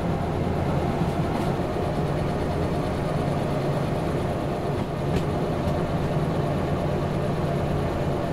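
A train runs in the Derail Valley simulator game, a loud continuous rumble of the locomotive and wagons on track with faint rhythmic clatter, steady throughout with no talk.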